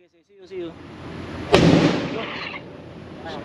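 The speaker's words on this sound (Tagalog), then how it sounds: "Sumabog yung gulong ng truck." A truck tire bursts with one sudden loud bang and a lingering rumbling wash of noise, with voices speaking briefly before and after it.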